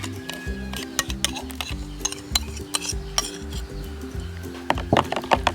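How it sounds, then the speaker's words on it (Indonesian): A spoon stirs a mixed liquid of Pocari Sweat and other ingredients for photosynthetic bacteria fertilizer, giving irregular clinks and taps against the container over a steady background hum. "kita aduk kembali"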